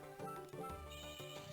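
A horse whinnies in the Castlevania: Aria of Sorrow video game, a faint synthesized neigh heard over the game's music with pulsing low tones.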